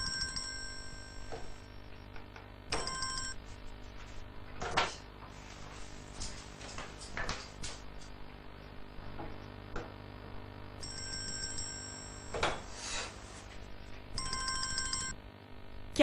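A telephone rings in a dubbed Urdu drama scene, with repeated bursts of ringtone over a steady indoor background and no speech.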